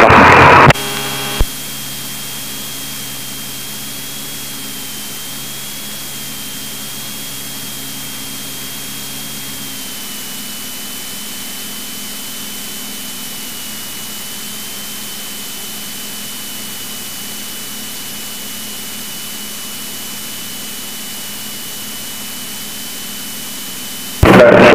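A light training aircraft's engine runs through takeoff from runway 27 left as a steady, loud drone with a constant tone, under radio static and hiss from start to finish, briefly cut off at the very beginning and end.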